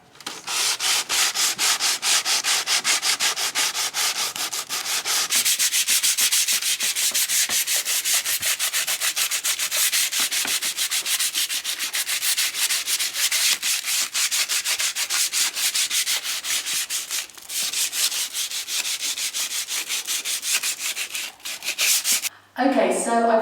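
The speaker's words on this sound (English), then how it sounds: "I've now lovingly sanded my table down" Sander working over a wooden garden table for stain refinishing, a steady loud abrasive rasping with rapid scratchy strokes running almost continuously, briefly dipping a couple of times and ending with a short clatter.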